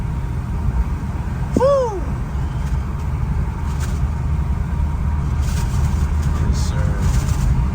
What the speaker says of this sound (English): Trying to see if I can get some turbo sounds